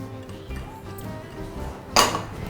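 Salmon, fresh dill and rocket are tossed together in a bowl, with soft rustling and a bright clink of a utensil against the bowl near the end; no speech.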